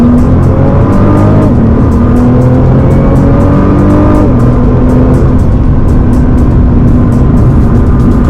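Nissan GT-R sports car driven on a track, its engine loud and close, droning steadily while the pitch rises and drops with each gear change and shift of throttle.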